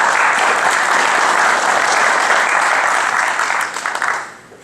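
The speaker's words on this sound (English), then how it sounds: "you can give both of them a round of applause to start" Audience at a county commission chairman's candidate forum applauds steadily for about four seconds, a dense sustained clapping that tapers off near the end.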